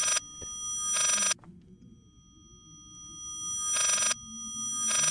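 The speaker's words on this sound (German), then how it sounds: "Was ist das für ein scheiß Telefon hier?" Telephone ringing in the horror video game Layers of Fear, two bright electronic ring bursts separated by a long quiet gap, clear and alone over a low hum.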